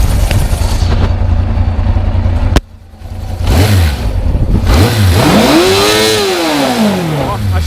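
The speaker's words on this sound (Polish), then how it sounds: "sam silniczek brzmi, jak widać bardzo dobrze, nie dymi" A 1988 Yamaha XJ600 motorcycle engine idles with a steady low rumble, then revs up and back down in a rising and falling whine, close by.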